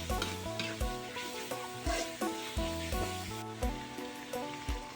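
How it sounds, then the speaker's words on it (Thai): Pork cartilage stir-fried with curry paste for a pumpkin curry gives a steady sizzle with regular stirring scrapes, heard under prominent rhythmic background music. "เราจะใส่เศษกระดูกอ่อนลงไปผัดกับพริกแกงนะครับ ผัดไปเรื่อยๆ เลยนะครับ"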